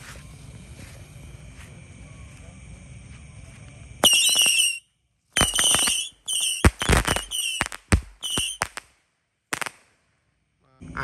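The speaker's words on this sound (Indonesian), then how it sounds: "ini ada mercon misil Sweetor 50 shot guys, sudah berhasil menyala" A Sweetor 50-shot missile firecracker fires at night during Ramadan celebrations: a string of sharp, loud bursts with whistling launches, irregular and spaced out, some clustered quickly, after a low, quiet background.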